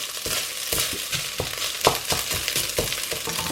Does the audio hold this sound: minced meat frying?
yes